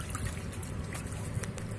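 Water drains from a murky fish pond used for raising catfish, making a continuous close trickling and gurgling rush with no voices.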